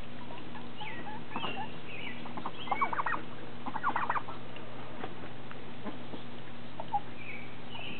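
Soft quacking and muttering calls from a few birds come and go over a steady low hum, fairly quiet and close.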